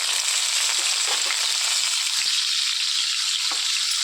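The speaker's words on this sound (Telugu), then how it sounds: "వేయించుకోవాలండి ఎర్ర రంగు వచ్చేవరకు" Cleaned dried fish pieces fry in hot oil in a pan, giving a loud, continuous close-up sizzle with crackling pops and an occasional scrape of stirring throughout.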